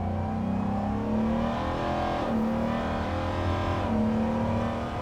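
A 1977 Ford F-150 with a custom exhaust accelerates through the gears, its engine climbing in pitch, dropping at each shift and climbing again, loud and close with no voices.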